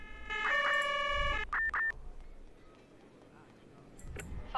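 A wailing electronic ambulance siren from the video game Emergency 4 with a synthetic game-like tone, sounding briefly in a few bursts before fading into quiet background noise.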